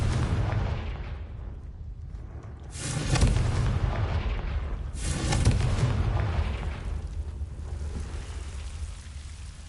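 The Confringo blasting spell in the Hogwarts Legacy video game goes off as two booming explosions a couple of seconds apart, each a loud broadband blast that decays into a rumbling wash over steady ambient game background.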